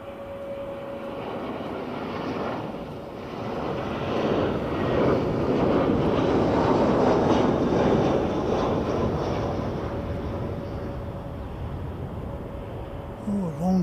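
A Jetstar airliner approaches to land, its engine roar swelling from a distance to a broad, loud rush as it passes, then slowly fading, heard outdoors without talk.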